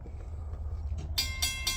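A freight train hauling intermodal and trash containers rolls past with a low steady rumble, and sharp metallic screeches and squeals of wheels on rail come in near the end.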